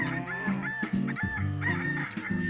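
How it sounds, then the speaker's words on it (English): A rooster crows, its call repeated in several rising bursts, loud and close, with no talking. "the cockerel cock-a-doodle-dooed"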